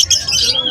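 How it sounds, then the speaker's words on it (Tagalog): Chirps of a Java finch at a pet market in Malabon, short bright calls close by over a busy background of other birds and crowd noise. "Java Fins po yung tawag dyan"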